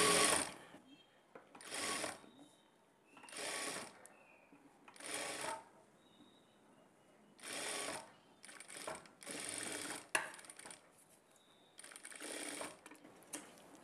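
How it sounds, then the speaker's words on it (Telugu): A sewing machine stitches a 1.5-inch strip of blouse fabric for piping in short repeated bursts, about seven runs separated by pauses, fairly faint and close. "ఇక్కడి నుంచి ఒక పావించి మార్జిన్తో ఒక స్టిచ్ వేసుకోవాలి"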